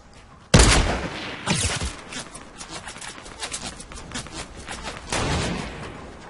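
Loud gunfire in the Fortnite battle royale game, with a sharp heavy shot up front followed by several more reports and a rumbling, echoing tail at a middle distance.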